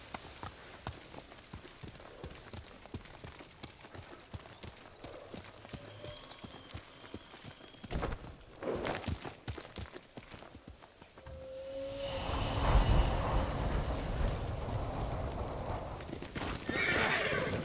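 A horse in the video game Ghost of Tsushima whinnies and neighs while its hooves clip-clop and gallop, the hoofbeats growing louder and more continuous toward the end.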